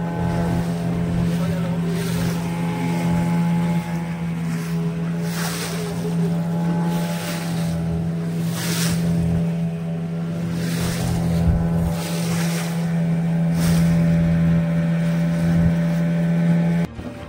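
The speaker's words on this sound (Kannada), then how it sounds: "ಈ ಅಳಿವೆ ಬಾಗಿಲಿಂದ ಹೋಗ್ತಾ ಇದೆ ದೋಣಿ." A motorboat engine drones steadily as the boat heads out through an estuary mouth to the sea, with wind and waves washing over it. The sound is loud and close and runs throughout.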